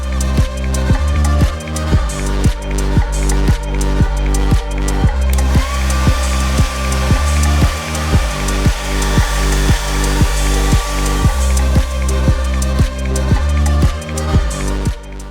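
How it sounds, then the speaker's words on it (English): A heat gun blows steadily while shrinking plastic stretched over a Halloween prop, a continuous loud airflow roar with a regular pulsing beat running through it, no voices. "I'm stretching the plastic over the top and shrinking it with my heat gun."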